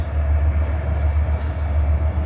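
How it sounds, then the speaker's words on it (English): A heavy freight train carrying ore from a copper mine rumbles steadily in the desert with a deep, continuous low roar and faint mechanical hum, no voices, sustained throughout. "There's the local train that's leaving the copper mine with all the ore."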